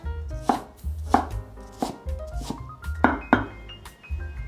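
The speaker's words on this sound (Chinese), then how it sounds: "把苹果换一个方向，切成小细丁。" Knife dicing an apple into small cubes on a board, a rhythmic run of crisp chops with slight clinking, close and clear, no talk.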